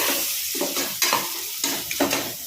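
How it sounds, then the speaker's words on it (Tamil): Onions sautéing in a pan with turmeric and salt for a vada curry, a steady close sizzle broken by several scraping stirs of a spoon against the pan. "நல்லா வெங்காயம் வதங்கிட்டுருக்கு."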